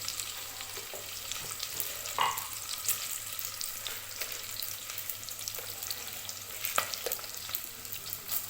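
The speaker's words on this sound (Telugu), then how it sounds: "ఈ తాలింపు గింజలు, ఉల్లిపాయ కొంచెం మగ్గాలి." Tempering seeds and chopped onion frying in a pan for a brinjal, potato and chana dal curry, a soft continuous sizzle with occasional stirring scrapes and small pops, heard alone without talk.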